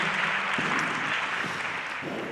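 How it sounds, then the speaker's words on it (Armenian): Audience at a youth forum keeps up steady, dense clapping. The applause stays loud and even throughout and fades only slightly at the close. "եկեք մի հատ էլ ծափարենք"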